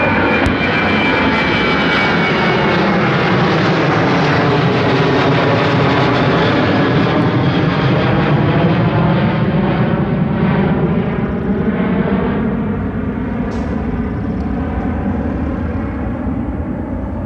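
A jet airliner roars through its takeoff run at Seattle-Tacoma International Airport, a loud, steady, broadband engine rumble that holds strong for the whole stretch with no voices over it.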